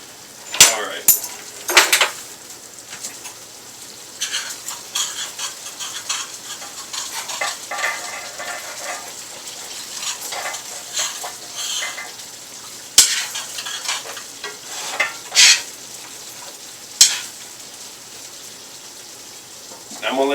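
Beef stew in a pot on the stove gives a steady frying sizzle, broken by several loud clanks of a utensil scraping and stirring against the pot.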